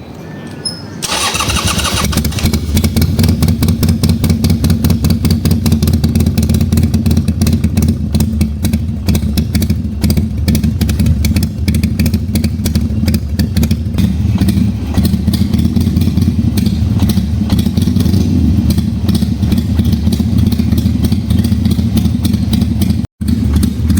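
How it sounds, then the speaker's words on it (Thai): A Harley-Davidson Sportster Iron 883 with a Vance & Hines exhaust fires up and settles into a loud, steady, throaty idle with a deep rumbling exhaust note, close by and continuous. "นี่คือเสียงท่อนะครับแวนแอนไฮตรงรุ่นสำหรับ 883 เลย"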